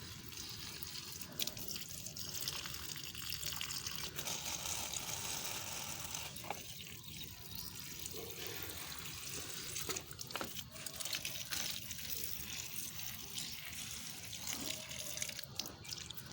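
A thin stream of water running from a tap on a terrace garden where plants are watered, a quiet continuous trickle with intermittent dripping and small splashes, no voices.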